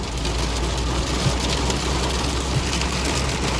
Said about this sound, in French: Regardez la grêle.